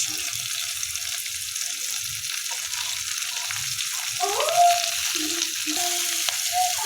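Onions, chopped carrots and green chilies fry in a pan for chicken masala, giving a steady close sizzle with occasional stirring clinks and scrapes.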